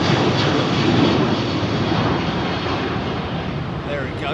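A jet aircraft on Heathrow's runway 27R gives a steady broadband roar that stays loud throughout and then slowly eases off. A voice can be heard in the background.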